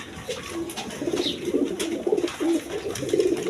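A tulip pigeon coos in a string of low, throaty rolling calls, close and clear over quiet surroundings.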